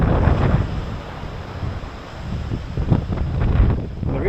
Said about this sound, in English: The sound of the waves crashing,